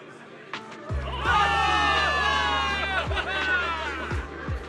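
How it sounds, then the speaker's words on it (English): A crowd of soldiers in the video game Zenless Zone Zero cheers and shouts loudly together, a sustained roar of many voices with thumping beats underneath. "Give it up for yourselves, soldiers! Cheer for victory!"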